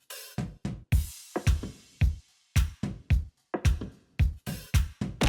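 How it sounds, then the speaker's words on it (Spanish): A heavily swung drum loop of punchy kick drums and bright hi-hats repeats in an uneven, shuffling rhythm. It is loud and close, with no talking, and belongs to a Five Nights at Freddy's movie remix. "creé un drum loop con mucho swing. Con el kick y unos hi-hats"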